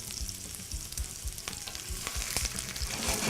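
Veal shanks for osso buco browning in hot oil, a steady close sizzle with faint crackles and small shifts as the meat sits in the pan.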